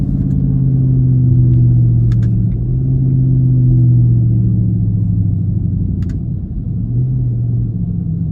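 A car engine revs in low, droning pulses as it downshifts through paddle shifters, with the pitch rising and falling close by, loud and steady, with no voices.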